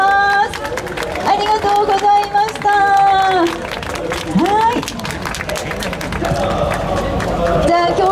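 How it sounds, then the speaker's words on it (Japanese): A crowd at a Super GT race event at Fuji claps for the team's promotional girls on stage, a steady spread of applause under music and an announcer's voice. "大きな拍手をお願いいたします。"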